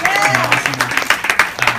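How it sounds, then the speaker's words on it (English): A small gathering in a bar claps briefly, with uneven, close individual hand claps and voices talking over them throughout. "can we give a round of applause for Sasha?"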